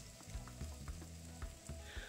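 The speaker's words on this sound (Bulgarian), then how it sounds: "поставяме нашето плоско кюфте на тигана и печем минутка-две" A flat meat patty, part of a quick tortilla burger, fries in a pan on the stove with a steady close sizzle and crackle, punctuated by soft knocks and scrapes of a spatula or pan.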